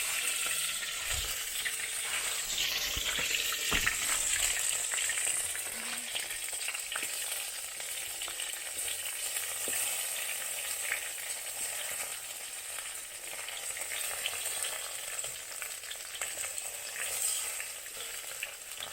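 Onions and tomatoes frying in hot oil over a lowered fire at a village cooking spot, a steady soft sizzle with occasional stirring scrapes, fairly quiet and continuous without speech.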